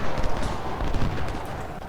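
Musket volleys in the Civil War strategy game Ultimate General: Civil War, a dense rumbling crackle of massed distant shots rolling continuously through the short stretch.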